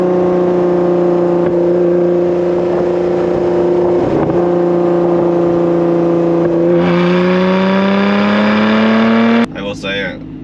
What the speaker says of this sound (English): It's legitimately a Toyota Camry V6 motor with the supercharger on top of it.